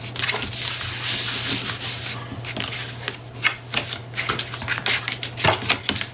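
Paper is rubbed hard with a burnishing tool during a Stamperia craft project: close scratchy strokes, some long and sweeping and others short and quick, with no one speaking and a steady low hum under them.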